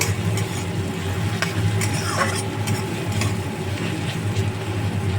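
Fenugreek, panch phoron and black mustard seeds fry in hot oil with a steady close sizzle, crackling pops and occasional stirring scrapes of a utensil in the pan.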